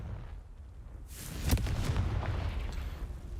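A Confringo fire spell goes off in Hogwarts Legacy near a crumbling tower: a single sharp, booming explosion bursts out of a quiet background and then rumbles and crackles away.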